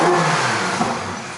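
A Ferrari F8 Spyder's 3.9-liter twin-turbo V8 revs loud and close, a brief harsh rising-then-settling engine roar with no voices over it.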